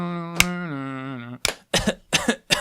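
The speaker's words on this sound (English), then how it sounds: "Let me clear my throat." A person clears their throat with a sustained voiced rasp after a brief sharp onset, followed by several short, rough bursts of hacking, close and loud with no other sound.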